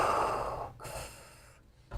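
Imitation of Darth Vader breathing in a mask, made by a person's voice: two slow, hissing breaths close to the microphone, each fading into a brief silence.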